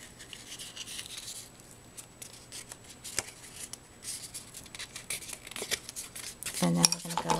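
Paper hand-scored with a tool while making a gift bag: soft scraping and scratching strokes at close range, with faint clicks and rustles building louder toward the end.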